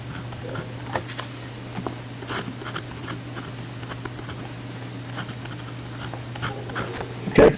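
Marker or chalk writing on a board during a math lecture, faint tapping and scratching strokes scattered over a steady low hum, with no talking.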